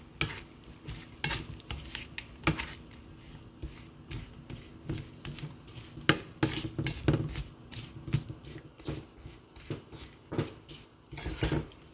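A utensil stirs shrimp with a little dill seasoning in a pan, producing repeated irregular scraping clatters over a soft sizzle, close and moderately loud, with no voices.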